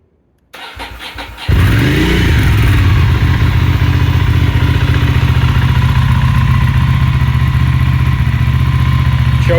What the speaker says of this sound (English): here's a cold start video for the Ducati 620